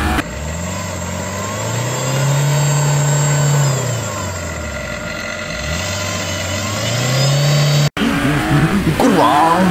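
A New Holland farm machine's engine revs hard and high in long sustained bursts, pitch climbing and holding then dropping, loud and close, ending in a brief cut followed by more roaring.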